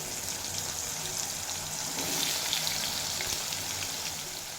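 Potatoes crackling in hot oil after a spice tempering, a steady dense sizzle that holds at an even, moderate level throughout with no talk over it, during preparation of a vegetarian raw banana dish.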